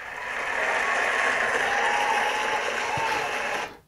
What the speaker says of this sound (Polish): chciałbym właśnie w tym momencie kibiców poprosić o brawa dla Przemka